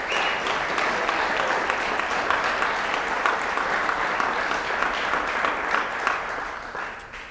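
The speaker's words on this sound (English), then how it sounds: "How about a round of applause for all of our winners?" An awards ceremony audience applauds its winners with sustained, even clapping from a sizeable crowd that holds steady and then begins to fade near the end.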